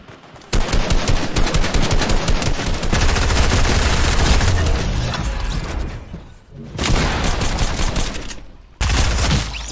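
Sustained automatic assault rifle fire in a video game, a dense loud fusillade running for several seconds with brief pauses and fresh bursts, no talking.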